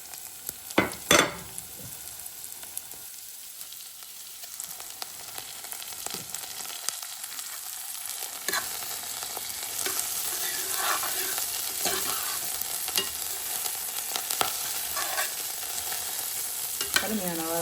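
Mint leaves sautéing in a pan for a homemade Tamil mint chutney, a steady sizzle building in volume with occasional stirring scrapes and clatter throughout.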